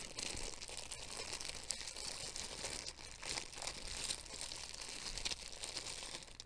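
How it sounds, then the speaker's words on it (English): Dice shift and crinkle inside a plastic Ziploc bag, making a steady close-up rustle of soft plastic crackling with small scattered clicks throughout, no talking heard. "They're currently in a Ziploc bag."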